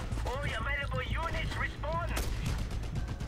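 Dense gunfire in the action game Just Cause 2, a steady clatter of shots under a whining, warbling tone that rises and falls, fairly quiet in the mix.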